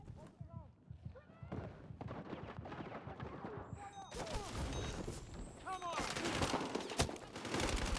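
Shotgun blasts and other gunfire crack through a hectic Battlefield 6 match, several sharp bursts amid running footsteps and game noise, with a person talking over the action.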